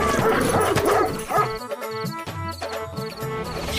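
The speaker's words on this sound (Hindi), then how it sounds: "तब तक सेठ का कुत्ता बिरजू का पिछवाड़ा नोच लेता है।" A dog barks and yips in quick, agitated bursts with whimpering tones in a cartoon story scene, close and loud, as though lunging at someone.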